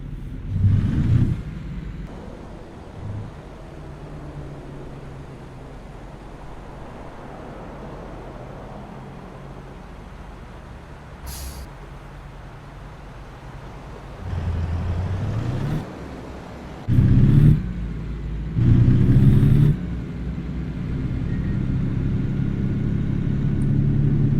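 Simulated International truck engine in American Truck Simulator, a steady low rumble and drone throughout, with a few louder surges and bumps later as the truck drives on.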